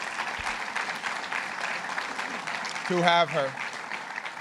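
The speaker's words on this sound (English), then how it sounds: "Give her a round of applause" Audience clapping at a public event on sustainable development in Rochester runs as a steady, moderate patter beneath a woman's brief spoken remark.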